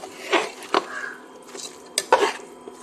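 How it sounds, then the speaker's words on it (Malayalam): A spoon scrapes and clanks against a pot while chicken with spices is stirred for a home-style chicken curry, giving several sharp knocks and soft scrapes spaced irregularly, close by and with no talk. "ഇനി ഇതെല്ലാം കൂടി ഒന്ന് നല്ലതുപോലെ മിക്സ് ചെയ്യാം."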